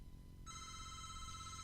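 A phone ringtone suddenly starts and keeps ringing as a bright, steady electronic tone over a quiet room background, fairly soft and with no speech.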